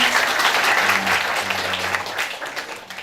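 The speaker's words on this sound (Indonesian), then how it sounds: "tepuk tangan terlebih dahulu ayo teman-teman" Audience applause at a live financial literacy event, a steady wash of clapping from a crowd that continues across the whole stretch and slowly thins toward the end.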